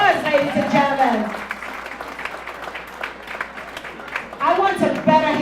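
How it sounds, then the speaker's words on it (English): Audience applause for Ms. Lena Horn, a 101-year-old honoree at a women's excellence awards ceremony, fills the hall as sustained clapping from a crowd, with a voice talking over it at the start and again at the end. "Give her a round of applause, ladies and gentlemen."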